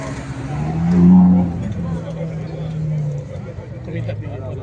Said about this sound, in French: voiture assez originale qui arrive maintenant pour le Tour Auto. En tout cas, c'est une Saab 96 V4